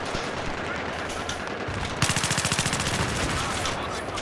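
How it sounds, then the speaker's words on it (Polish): PP-19 submachine gun firing in Battlefield 3, a rapid burst of automatic fire with sharp rhythmic reports after a stretch of ambient battle noise, loud and close. "Ależ te moje PP-19 to wymiata normalnie"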